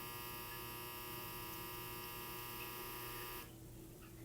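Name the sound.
clothes dryer buzzer going off in background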